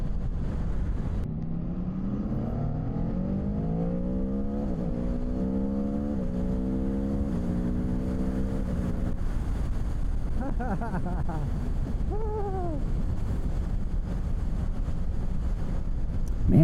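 A 2025 Aprilia Tuono V4 non-factory motorcycle on the road, its engine note climbing steadily and stepping up through several quick gear changes, with constant wind rush over the microphone throughout.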